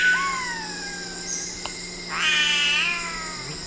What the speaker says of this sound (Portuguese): Esse som é de uma ave, é do jacamaruçu